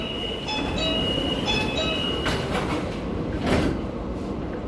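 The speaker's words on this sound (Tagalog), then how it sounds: "Dito na tayo sa loob ng train." Steady rumbling hum of a train travelling from China to Hong Kong, heard from inside a carriage, with a faint tonal whine and occasional rattling.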